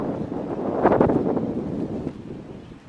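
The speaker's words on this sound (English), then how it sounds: "the wind." Wind buffets the microphone while riding a bike outdoors, a steady low broadband rush that swells briefly with a stronger gust near the middle before easing back to a constant blow.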